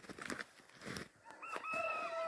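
Chickens cluck and call near a backyard coop, a mix of short clucks followed by a drawn-out crowing note, close and moderately loud.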